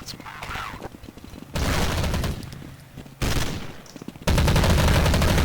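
Rapid automatic gunfire in Counter-Strike 1.6 comes in two loud sustained bursts, with quieter stretches between them where scattered shots and a faint voice can be heard.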